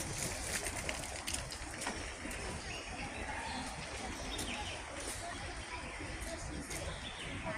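Pigeons and doves coo and other birds chirp in the aviary at Hong Kong Park, soft and somewhat distant over a steady wash of background noise, with occasional faint human voices.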